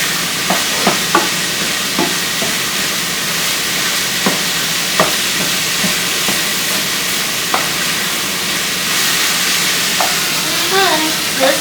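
Italian sausage frying in a pan, a steady close sizzle broken by scattered clicks and scrapes of a utensil against the pan, with a brief faint voice near the end.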